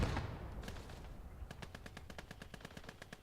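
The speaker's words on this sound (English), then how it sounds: "mostly because we've got a machine gun." A machine gun firing in the video game MACE: a heavy opening burst, then a rapid, evenly spaced stream of sharp automatic shots, loud and close with no voices.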